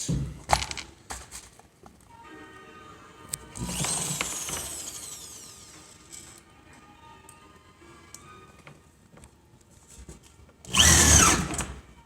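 A power drill drives framing screws into metal studs in short, loud bursts, with a strong final burst near the end and scattered clinks and rattles of screws and tools in between.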